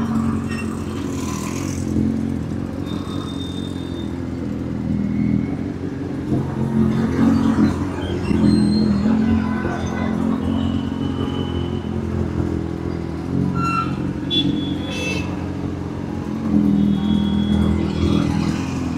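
A superbike rides home at night, its engine a steady loud drone with shifting pitch as it revs and eases off, under continuous road and wind noise throughout.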